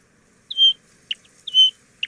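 A sandgrouse gives two clear whistled calls, each a drawn-out note followed by a short clipped one, like "pre-rit", close and alone.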